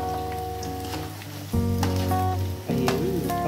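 Carrots land in a hot pan of beef and noodle stir-fry, and the steady sizzle jumps louder in two sharp surges as each batch hits the oil, with clinks of a utensil.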